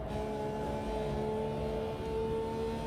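A Lamborghini engine in the racing game Automobilista 2 holds a steady, loud, continuous drone at sustained revs with no letup, heard alone.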